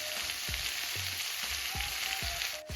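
Prawns sizzle in a hot pan with a dense, steady frying hiss, punctuated by regular low thumps and scrapes of stirring, close and alone.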